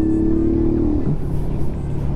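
Vento Xplor 190 motorcycle braking hard with both front and rear brakes on rough terrain, its loud, close engine note dropping sharply as the bike slows.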